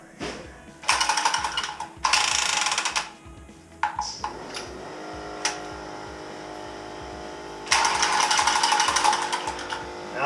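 Milwaukee M12 cordless cutter cutting pipe while a B&G recirculating pump is fitted to a Navien NCB 240 combi boiler: loud buzzing motor bursts of a second or two, repeated several times with short pauses and handling noise between.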